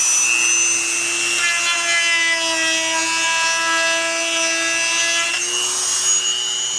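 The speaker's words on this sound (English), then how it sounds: "So take the Dremel. And you're going to do this slowly." A Dremel rotary tool grinds steadily to widen a speaker opening in a 2013-2020 Ford Focus door, giving a loud, close, continuous high whine that shifts pitch partway through and runs without talk.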